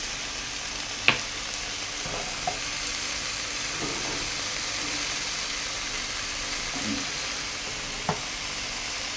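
Shrimp stir-frying with vegetables in a hot pan, a steady close sizzle and hiss throughout, broken by a few sharp clinks of a utensil against the pan.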